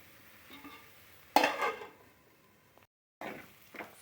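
Bodakakarakaya fry being stirred in a pan on the stove, a sharp scrape followed by a soft sizzle that fades, then a short silence and two more quick stirring scrapes.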